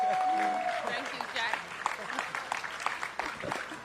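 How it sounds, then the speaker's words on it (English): An audience at a library modernization celebration breaks into applause that thins into scattered, nearby claps, with voices talking over the clapping. "ask all of you to give a big round of applause for the best mayor in the country and in the world, our mayor, Mayor Bowser"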